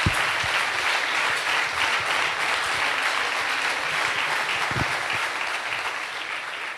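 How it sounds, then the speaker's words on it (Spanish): An audience at a Podemos-IU political rally in Donostia breaks into sustained, dense applause, a broad crackling wash of many hands clapping that stays fairly even before easing slightly toward the end. "os pido un aplauso para todas las compañeras y compañeros"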